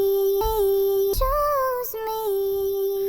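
A sustained sung vocal sample from the Grace Harmonies pack, one steady held tone that bends upward midway, with a few soft breathy or percussive bumps, heard alone without talk.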